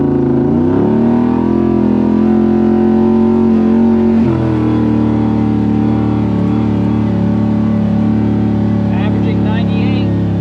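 Engine braking of a Polaris RZR fitted with an Rmax 1000 muffler while coasting: a loud, close, steady exhaust drone whose pitch slides down and then holds, with a brief shift midway, and no speech.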